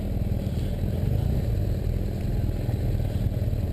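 A BMW F800GS motorcycle engine lugs at low revs on an off-road trail, giving a steady, close, deep rumbling drone with a slight rattle and no talk over it.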